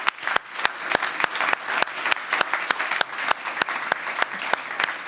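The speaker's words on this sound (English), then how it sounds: "a big applause to the 4 experts here on stage" An audience in a conference room applauds four experts on stage after a discussion on soil restoration, with full, sustained clapping and many crisp individual claps standing out in a brisk, uneven rhythm.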